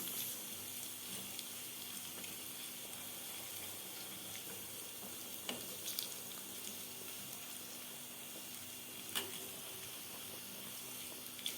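Garlic frying in oil for an okra-and-meat dish, giving a steady, quiet broadband sizzle throughout with a few brief crackles and pops near the middle and end, no talking.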